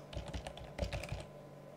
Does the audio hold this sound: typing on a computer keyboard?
yes